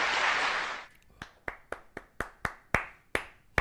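Crisp hand claps during a talk on the deity of Christ: a burst of noise, then about nine sharp, evenly spaced claps in a quick steady rhythm, close and clear.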